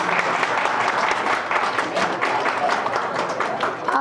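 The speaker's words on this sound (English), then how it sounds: "give a huge round of applause" An event audience gives a sustained, dense round of applause for the volunteers, steady and loud for the whole stretch, as a crowd claps together at a women's day celebration.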